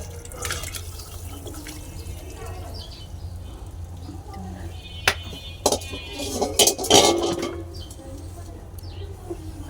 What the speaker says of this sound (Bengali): আমি চুলাটা অফ করে দিলাম। একটা পাত্রে নামিয়ে নিব।